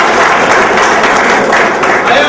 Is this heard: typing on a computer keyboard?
no